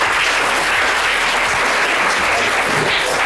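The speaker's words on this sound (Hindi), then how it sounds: "पुष्पेंद्र के लिए तालियां।" Loud, continuous applause from an audience at an inter-college motivational talk, a dense wash of many hands clapping without pause.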